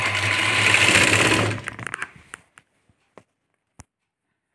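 A sewing machine stitching the edge of a blouse runs in a fast, loud, steady whir for nearly two seconds, then winds down into a few scattered mechanical clicks and taps before falling quiet.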